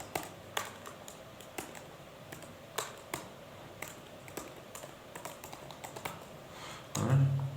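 Keystrokes on a computer keyboard as an email address is typed, a steady series of light, close taps with irregular spacing, followed by a short louder burst at the end.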